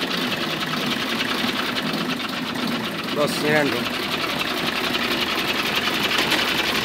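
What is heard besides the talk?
1992 HMT 3511 tractor engine running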